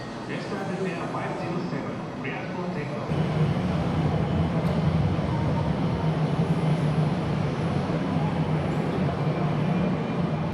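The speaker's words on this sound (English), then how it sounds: "Okay, so there's one taking off." A jet aircraft taking off at an airport, its broad engine roar stepping up and then holding steady and loud throughout, with faint talk early on.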